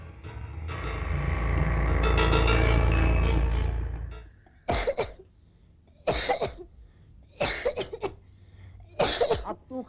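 Several sharp, harsh coughs in separate bursts, following a loud sustained rumble that fades out; close and fairly loud with no talking.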